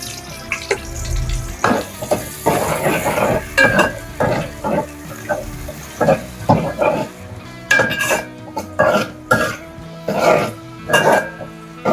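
Thinly sliced onions frying with whole spices like cinnamon, cardamom, cloves and shahi jeera for soya chunk pulao, a sizzle broken by repeated rhythmic stirring scrapes and clanks of a spoon against the pot.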